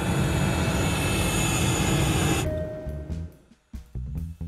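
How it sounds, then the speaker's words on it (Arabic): Broadband roar of a fixed-wing aircraft cabin during landing, loud and steady, then dropping off sharply partway through into quieter, uneven rumbles and knocks. "نحن على وشك الهبوط، يرجى ربط أحزمة الأمان"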